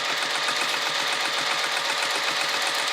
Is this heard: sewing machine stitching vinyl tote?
yes